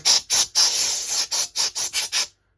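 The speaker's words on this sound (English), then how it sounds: "Next up for the heatsink, we'll spray it with compressed air." Compressed air sprayed in eight or nine short, loud hissing bursts at close range onto a Nintendo GameCube heatsink, with one longer blast near the start.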